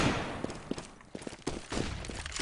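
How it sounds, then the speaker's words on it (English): Gunfire in a Counter-Strike match: a string of sharp, separate gunshots crackles at moderate distance over a steady hum, with scattered bursts and footsteps rather than one long volley. "as he somehow headshots Super Fighter through the smoke"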